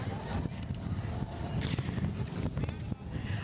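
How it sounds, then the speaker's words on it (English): Horses clip-clopping along a street in a Martin Luther King Jr. Day parade, steady hoof beats mixed into crowd noise and chatter, with talk continuing over the passing animals. "Aren't the horses beautiful?"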